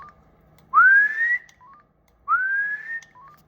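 Two rising whistles into the microphone of an Anytone AT-5289II 10-meter radio on AM, each about half a second long, with short electronic beeps after each, heard close and clean against near silence.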